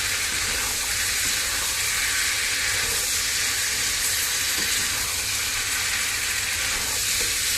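Fried snakehead fish is stir-fried with chili paste, fingerroot and green peppercorns, giving a loud, continuous close sizzle and hiss with a faint low hum beneath and no speech.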